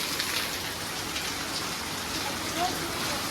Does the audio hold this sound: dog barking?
no